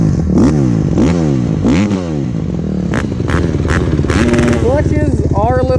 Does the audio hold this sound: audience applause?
no